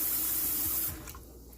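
Rice grains rinsed under running water at a kitchen sink, a close, hissing tap stream that cuts off partway, leaving faint dripping and a quieter wash.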